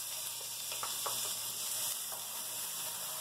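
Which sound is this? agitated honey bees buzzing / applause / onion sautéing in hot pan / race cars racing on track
onion sautéing in hot pan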